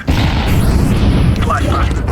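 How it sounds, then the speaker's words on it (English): A loud, dense blast from a grenade and flashbang going off in Counter-Strike 2 fills the moment with a heavy, rumbling burst that keeps roaring for about two seconds. "Throwing flashbang. Grenade out. Incendiary out."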